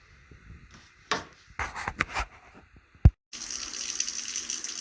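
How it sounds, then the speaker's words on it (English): A few scattered knocks and splashes, one sharp thud, then a steady close hiss of hose water spraying to rinse out dump cans, running on loud without pause until the end. "get ready to rinse the cans off"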